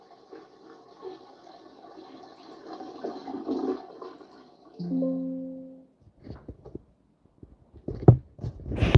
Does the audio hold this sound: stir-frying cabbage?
no